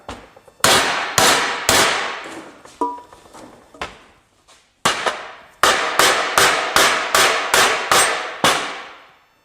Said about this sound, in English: I use my soft dead blow hammer, and I just hammer these into place.